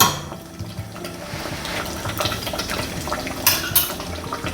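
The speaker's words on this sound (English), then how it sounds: "Another stir, give it another taste." A spoon stirs Napoli tomato sauce in a pan, giving soft scraping and clinking sounds over a bubbling, wet background, close and fairly loud.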